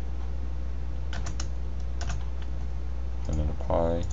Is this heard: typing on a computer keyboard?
yes